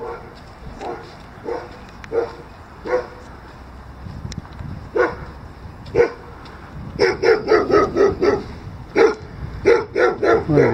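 Several dogs bark on an autumn street in Maikuduk, with scattered single barks at first, then a burst of rapid overlapping barking from more than one dog, fairly close.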